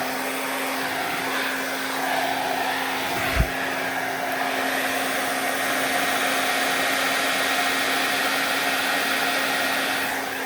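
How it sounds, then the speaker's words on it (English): A hair dryer blows on acrylic paint with a steady, even whir that holds throughout, and a single brief knock cuts in near the start. "I'm going to use my hair dryer here."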